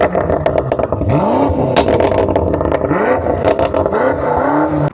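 A BMW M5 F90's twin-turbo 4.4-litre S63 V8 revs up and settles back several times, loud and close, with a dense throaty roar and rising sweeps under each blip of the throttle.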